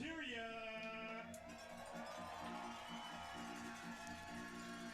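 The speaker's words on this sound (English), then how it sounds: "Large crowd here on a chilly day at Herman Brothers Field cheering for their Miners" Large baseball crowd at Herman Brothers Field on a chilly day, cheering for the Mat-Su Miners: a sustained distant roar of voices with scattered shouts, under a strong tonal hum and faint talk.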